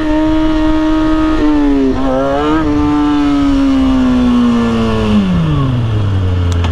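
A motorcycle engine held at a steady high rev during wheelie practice, the pitch wavering slightly as the throttle is worked, then dropping off toward idle near the end, loud and close with no talking.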